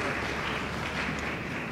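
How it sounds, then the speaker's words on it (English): Dense audience applause fills a conference hall at a fintech event, a steady wash of many hands clapping at moderate loudness. "Please give me a big round of applause"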